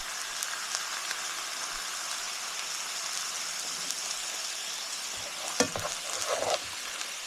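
Stirring ingredients in a chicken, spinach and mushroom skillet, a steady soft frying hiss with a few louder scraping stirs near the end, moderately quiet and close, no voices.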